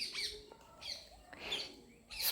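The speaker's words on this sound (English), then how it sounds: "Next is a sparrow." A small sparrow chirps and squawks in bursts of sharp, bright calls spread across a couple of seconds, fairly close and clear with no voices.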